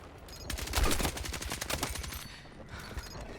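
Rapid gunfire in a video game, a dense fusillade of overlapping shots with a louder burst near the start, continuing steadily at moderate level with no talk over it.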